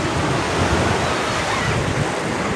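Surf rolls in steadily at Lancok beach in Aceh, a loud, continuous wash of waves mixed with wind buffeting the microphone.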